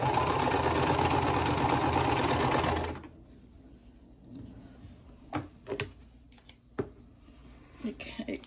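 A sewing machine runs steadily at close range while restitching a torn seam on a quilt block, then stops abruptly about three seconds in, leaving faint handling clicks and a few soft knocks.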